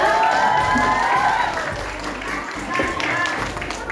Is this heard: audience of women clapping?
yes